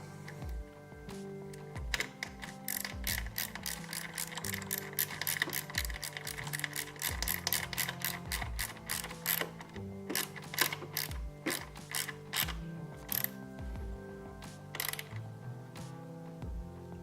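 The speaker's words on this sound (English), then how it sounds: "screw them in and tighten them up" A ratchet tightens the ignition lock screws on a Ducati Panigale V4, its rapid metallic clicks coming in close, steady runs broken by short pauses, with no speech.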